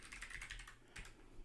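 Quick bursts of keystrokes on a computer keyboard while a short chat message is typed, a steady run of soft clicks followed by a firmer tap at the end, faint and close with no talking.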